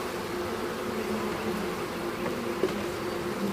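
Dense, steady buzzing of thousands of honeybees inside a wooden hive box during a walk-away split, a continuous close drone with no voices.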